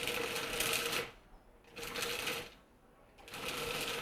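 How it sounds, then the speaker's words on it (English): A food processor pulses a no-bake energy ball mixture with chia seeds into a paste, three loud bursts of whirring broken by short pauses. "And then I'm going to pulse it again until it comes together in a paste."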